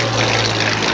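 A propeller-driven fixed-wing aircraft, a civil security plane, flies at the Biscarrosse air show, giving a loud, steady engine drone with a constant low hum throughout.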